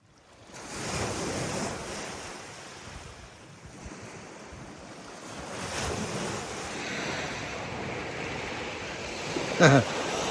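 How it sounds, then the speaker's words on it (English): Surf rolls steadily onto a beach on Michigan's Upper Peninsula, a broad continuous wash of breaking waves with wind buffeting the microphone and no talk. "So we've found ourselves down at the beach here."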